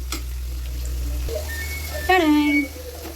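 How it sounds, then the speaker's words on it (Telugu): Chopped ridge gourd (dondakaya) pieces fry in a pan with a steady, close sizzle, joined near the end by a short tonal sound like a voice. "ఇవి ఫ్రై అవుతున్నాయి"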